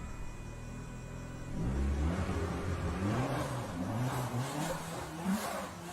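A turbocharged car engine with an intercooler revs up from a low idle into a rising, rumbling roar with boost, heard at moderate distance with no talking.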